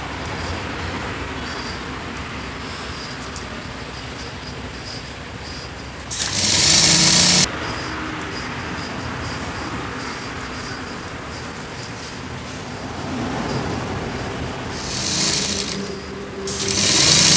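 A sewing machine stitches a wrestler's traditional langot, giving a steady close mechanical whir with louder, harsher bursts of stitching partway through and again near the end.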